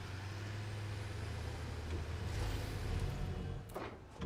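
Steady low engine drone of a tractor driving in the Satisfactory factory game, holding an even rumble before a brief swell and fade near the end.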